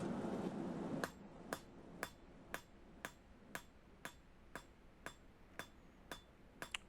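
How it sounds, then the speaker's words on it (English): Steady, evenly spaced blows from the edge of a hammer on the near corner of an anvil, drawing out metal, about two strikes per second, each a sharp clank over a low background hiss. "I'm actually using the near corner of the anvil, but the near corner of the hammer to stretch it out"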